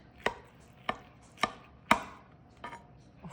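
A knife slices through cooked pork loin on a board with four crisp, evenly spaced chops followed by a softer fifth cut, close and clear against a quiet background.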